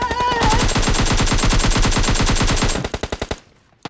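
Automatic weapon fire in PUBG Mobile: a loud, rapid, sustained burst of evenly spaced shots for nearly three seconds, then a few slower single shots that trail off into quiet, followed by a short final pair.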